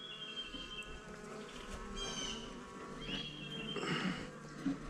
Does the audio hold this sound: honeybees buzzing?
yes